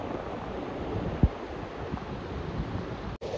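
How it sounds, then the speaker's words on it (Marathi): Strong wind roars steadily on a rainy monsoon trek up Korigad fort, a continuous broadband rush buffeting the microphone, with one brief thump partway through and a short dropout near the end. "हवा जोरात वाहते त्यात पाण्याचा फोर्स."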